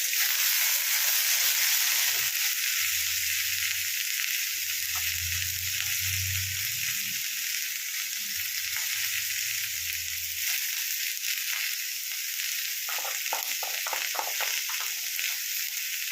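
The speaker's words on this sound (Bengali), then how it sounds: "এর মধ্যে আমি শুকনো মশলা এবার দিয়ে দেবো, আঁচটা কমিয়ে দিলাম" Dry spices sizzle in a pan of potato and capsicum over lowered heat, a steady bright hiss throughout with soft scraping and stirring bumps underneath, close and continuous.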